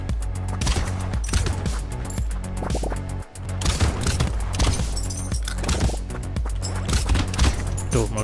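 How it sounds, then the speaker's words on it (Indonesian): A weapon in the video game Brotato sets off rapid, overlapping explosive bursts that repeat steadily across the clip, mixed into a dense, continuous bed of game music and effects. "Tuh, meledak kan, mantep nih senjatanya."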